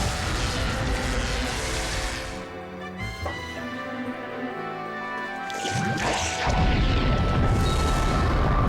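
Zombie Breath's fire attack in Yu-Gi-Oh! The Falsebound Kingdom roars as a loud, continuous blast of rumbling flame with booming surges, filling the scene throughout.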